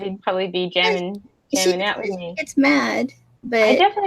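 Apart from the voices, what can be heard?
No everyday noises stand out.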